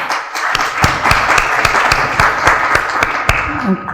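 Applause in a conference hall at a medical symposium, moderately loud clapping with distinct individual claps standing out in an uneven rhythm, and a voice briefly heard near the end.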